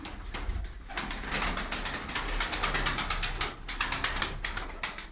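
A pigeon coos repeatedly in close, rhythmic bursts alongside other birds, with some wing flutters, all sounding near and fairly loud.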